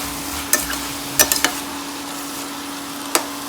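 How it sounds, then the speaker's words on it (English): Ingredients for Maharashtrian spicy shrimp rice (kolimbichi khichadi) saute in a pan, giving a steady sizzle with a few sharp spatula clicks and scrapes scattered through. "So just saute it for a minute or so."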